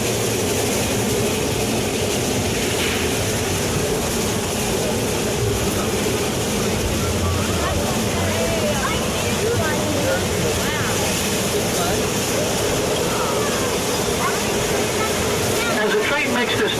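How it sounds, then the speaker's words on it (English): Roaring Camp narrow gauge train rolls through a right-hand curve on a steep grade in the redwoods, a continuous dense rumble and rattle of cars and track that stays loud and even throughout. "As the train makes this turn to the right,"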